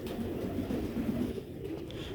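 Old-breed Sialkoti pigeons with red pearl eyes coo softly nearby, a few low rolling calls over a steady background hum.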